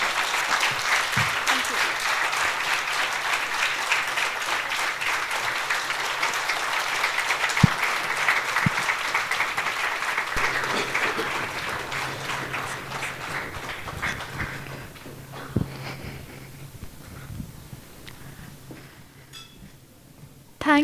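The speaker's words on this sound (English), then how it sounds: "Another big hand of applause for her, please." A sustained round of audience applause follows an inspirational talk, a dense steady wash of many hands clapping that holds for a long stretch, then gradually thins and fades near the end.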